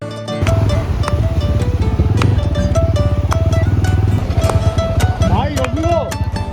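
A motorcycle on a ride toward a coastal beach in Odisha holds a steady, loud engine drone throughout, close and continuous, with a voice audible over it near the end.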